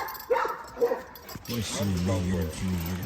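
Puppy letting out short yips and barks, then a longer whining growl with a clear rising and falling pitch, close by, with a person's voice also present.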